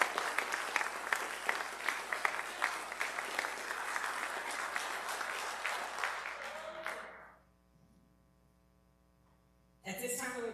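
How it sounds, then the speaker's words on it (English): A crowd at a police academy cadet graduation ceremony applauds the graduates with sustained dense clapping that fades out after about seven seconds, leaving quiet hum before a brief burst of clapping returns. "Let's give our graduates a round of applause"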